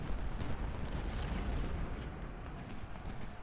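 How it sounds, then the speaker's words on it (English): Artillery pounds away in a Civil War battle video game, a dense, continuous rumble of booming cannon fire with overlapping blasts and no clear gaps. "Shift the assault artillery to firing at these guys who are on the flank here"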